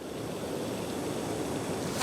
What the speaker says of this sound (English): That's a rolling boil now.